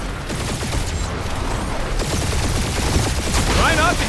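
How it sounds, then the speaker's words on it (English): Gunfire in the Guardians of the Galaxy video game on PS5 during a dogfight, a dense continuous barrage of shots and blasts with a few faint whines. "We're taking fire."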